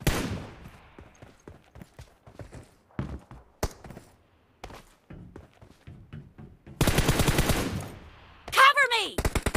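Gunfire in a shooting video game: scattered single shots and short bursts, then a rapid sustained automatic volley and a final loud burst.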